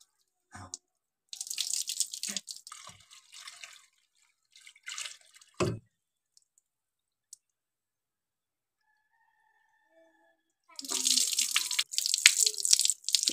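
Soaked urad dal (mash dal) being washed in water in a village kitchen, with bursts of splashing and rinsing at the start and a louder stretch of running, sloshing water near the end, separated by quiet pauses.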